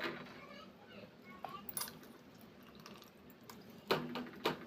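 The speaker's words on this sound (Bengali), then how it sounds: "এইবার ভালো করে জল চিপে তুলে নেব" Soaked, softened soybeans are squeezed by hand so their water drips and splashes out. The faint, intermittent wet bursts come over quiet background voices.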